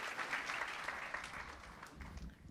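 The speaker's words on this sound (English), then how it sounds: "another round of applause for Judge Paradiso and Judge Noble." Audience applause fills a hall, a dense, steady wash of clapping that carries on evenly for a couple of seconds without a pause.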